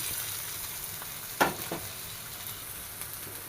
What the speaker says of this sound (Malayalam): ഇതാ ഒരു ചട്ടി ചൂടാകാൻ വെച്ചു അതിലോട്ട് ഒരു സ്പൂൺ നെയ്യ് ഒഴിച്ചു കൊടുക്കാം എന്താ ഒരു മുറി തേങ്ങ ചിരവിയിട്ടുണ്ട് അത് കൊടുക്കാം